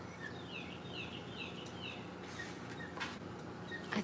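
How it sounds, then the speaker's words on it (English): Birds sing outdoors with faint, repeated chirps and short tweeting phrases set against a steady background hiss, fairly distant. "You hear the beautiful birds?"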